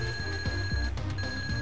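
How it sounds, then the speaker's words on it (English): Countdown, the alarm-clock boss of the Factory in Super Mario RPG, rings with a loud, steady electronic alarm tone that keeps going through the whole moment over rhythmic game music. "he's an alarm, obviously, and he's alarming the whole factory to our presence"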